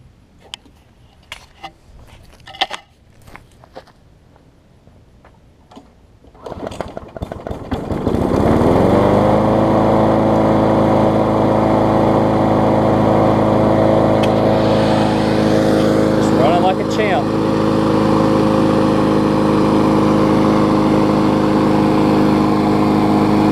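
A Bolens lawn mower with a newly replaced intake tube and repaired pull-rope recoil gets a few pulls and sputters, then catches and settles into a loud, steady engine drone that runs continuously.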